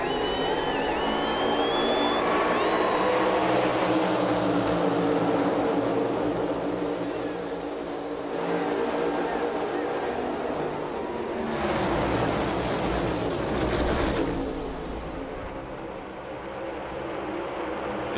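A pack of NASCAR Cup Series cars roars up to speed at Talladega after the green flag, a loud, continuous broadband engine rumble that swells and recedes as the field passes.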